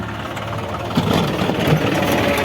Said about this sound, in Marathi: आपला बंटा आलेला आहे ट्रॅक्टर घेऊन